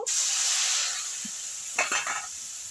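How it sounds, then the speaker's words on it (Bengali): Boiled banana stem going into hot oil tempered with dry chili, bay leaf and nigella seeds, a sharp sizzle bursting up and then fading, followed by a few quick stirring scrapes near the end, close and alone. "এবার আমি থোরগুলো সেদ্ধ করে রাখা থোর ভেজে নেব"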